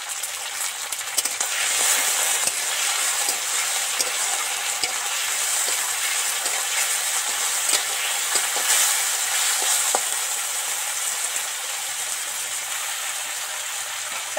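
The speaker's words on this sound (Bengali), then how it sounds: "টমেটো আলুগুলো ভাজা হয়ে গেছে, তেল ছেড়ে গেছে।" Tomatoes and potatoes fry in oil for a Bengali water spinach chorchori, giving a steady, close, dense sizzle that holds evenly for the whole stretch with small crackles and no talking.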